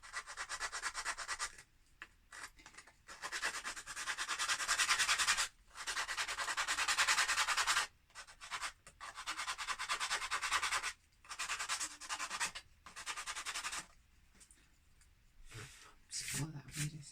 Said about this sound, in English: I'm just going to rub it with some sandpaper.